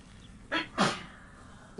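A character in Red Dead Redemption 2 sneezes in two quick, close bursts, a short intake followed by a sharper sneeze, over quiet camp ambience.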